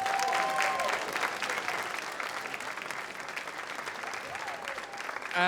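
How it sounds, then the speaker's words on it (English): Sustained applause from a crowd at an athletics hall of fame banquet, a dense patter of clapping that continues steadily throughout, with faint voices mixed in. "can we give another round of applause for Doug Todd?"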